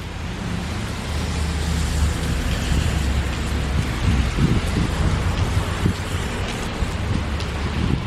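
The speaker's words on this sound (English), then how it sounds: "Obviously, I'm stuck in here until this rain ends." Steady rain pours down in Rockville Centre during a weak thunderstorm, a constant dense hiss with a low rumbling undertone throughout. No one speaks.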